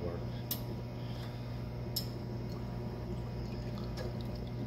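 A steady water rinse hisses and pours while cleaning the vessel of a Parr calorimeter bomb, an even flowing wash with a few faint sharp ticks.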